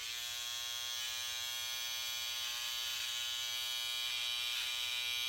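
An electric beard trimmer buzzes continuously and loudly at close range, a steady high-pitched motor drone with slight variations as it moves over facial hair, with no talking.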